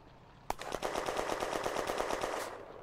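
Rapid machine-gun fire from a Somua tank in a June 1940 wartime video game, aimed at an anti-tank gun crew on a hill: a sharp opening shot, then a steady, fast string of loud bursts lasting about two seconds.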